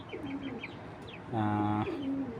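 Belgian racing pigeons of a Kittel line coo softly in a short, faint spell, with a few light chirps before one fuller, rolling coo.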